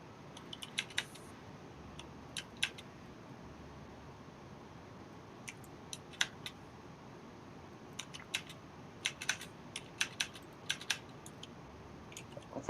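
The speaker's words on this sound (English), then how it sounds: "he's got a mechanical keyboard." Clicks from a mechanical keyboard, sharp and fairly faint, tapping in irregular bursts over a quiet room hiss.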